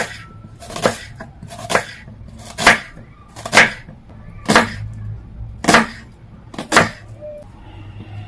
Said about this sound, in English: I'm going to go ahead and chop them across